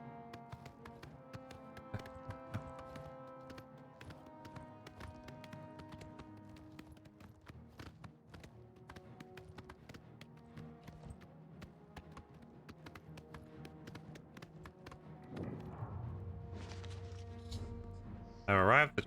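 Horse hooves galloping in The Elder Scrolls IV: Oblivion, a steady rapid clip-clop rhythm running under game music and spoken commentary, with a louder burst near the end.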